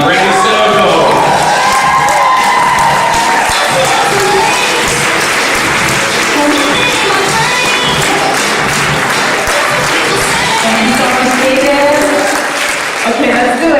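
Loud audience applause mixed with cheers and whoops greets Brandy Sinoto at a network marketing training event, a thick wash of clapping and crowd noise lasting throughout.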